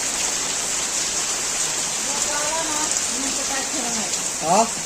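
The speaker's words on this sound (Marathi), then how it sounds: "कंटिन्यू पाऊस चालू आहे" Steady rain hisses without pause, with a voice speaking softly underneath in Marathi and a brief louder vocal sound near the end.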